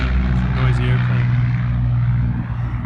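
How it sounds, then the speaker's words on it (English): Loud, steady drone of a noisy propeller airplane passing overhead, a continuous engine roar that holds strong throughout and eases slightly near the end. "Noisy airplane."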